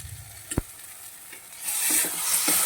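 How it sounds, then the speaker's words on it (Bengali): Spice paste for a chela fish curry sautés in a pan, with a couple of clunks from stirring and then a rising, steady sizzle that swells in the latter half, close up and without voices. "মশলাটাকে আমি ভালোভাবে একটু কষিয়ে নেব এক মিনিট পর্যন্ত"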